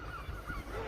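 Seagulls calling in the background, a few drawn-out nasal cries over steady low ambient noise, moderately distant.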